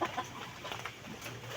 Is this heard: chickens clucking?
yes